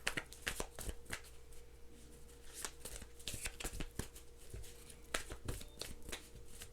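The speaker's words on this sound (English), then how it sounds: "One more shuffle." Tarot cards are shuffled repeatedly, with quick riffling bursts and soft taps in an irregular rhythm, close and fairly quiet.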